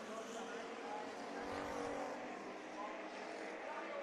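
Hobby Stock race cars on the final lap of a heat race at Bakersfield Speedway, their engines a steady, loud roar with one car surging past mid-way, under a faint murmur of crowd or announcer voices.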